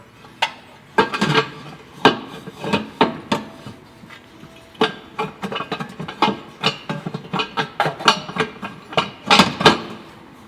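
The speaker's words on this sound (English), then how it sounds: "Now we can remove the manifold." Work on removing the exhaust manifold from a Lexus IS F brings sharp metallic clanks, knocks and tool rattles. They come in irregular bursts, close and fairly loud, with no talking.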